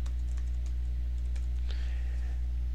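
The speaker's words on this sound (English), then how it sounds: "I can type or paste the address here" Light typing on a computer keyboard while entering a web address, sparse soft key clicks over a steady low electrical hum, quiet and close.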